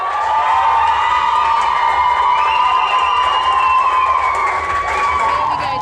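A home crowd at a women's rugby match cheers and shouts loudly and continuously as Worcester wing Lydia Thompson comes out, a dense roar of many voices with whoops rising through it.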